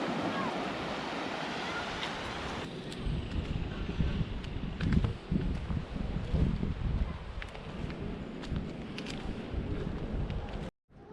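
Surf washing over large pebbles and big stones along an island shore, a loud, rough, continuous roar of breaking water and wind rushing past the microphone before it cuts off abruptly near the end.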